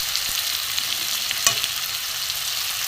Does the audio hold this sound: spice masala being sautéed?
yes